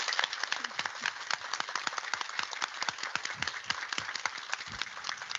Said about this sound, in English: I hope that you can hear a very warm applaud from the Earth up to